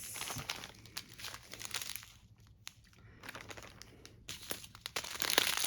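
A plastic Ziploc bag crinkles and crunches in hand while a cross-stitch kit is unboxed, with irregular rustling bursts close to the microphone and a brief quieter pause midway.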